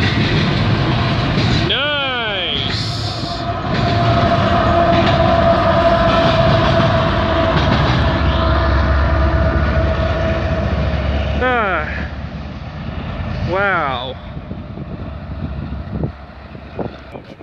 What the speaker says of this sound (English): we got a GO train right there.